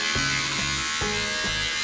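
Electric beard trimmer buzzing steadily up close while trimming a mustache, its hum dipping in pitch at regular intervals as it presses into the hair, with no talking.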